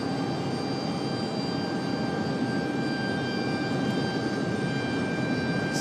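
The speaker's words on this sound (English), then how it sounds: "We've got a CRJ coming up for departure." A CRJ 900 regional jet departing Raleigh-Durham International Airport gives a steady, continuous engine roar with a faint whine, holding even in loudness throughout, with no speech.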